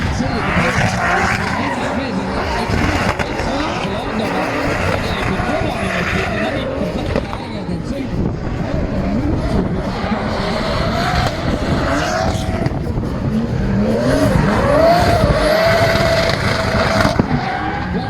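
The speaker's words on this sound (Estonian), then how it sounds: "Michael Reiljan, kes sõidab sellest täiesti teistsuguse uue autoga" A rental rally car drifts around a track at the Mulgi drift event in Raasilla, Estonia, its engine revving hard with squealing tires, loud and sustained, while a voice talks over it.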